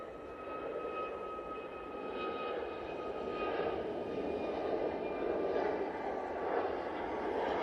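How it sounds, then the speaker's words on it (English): An Etihad Boeing 777 airliner coming in to land at Manchester Airport, a steady broadband jet roar with faint whining engine tones, sustained and gradually swelling as it passes at a moderate distance, with no talking. "it's the Etihad 777 coming in behind the Zhunyao there"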